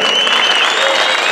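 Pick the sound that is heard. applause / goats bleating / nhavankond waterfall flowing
applause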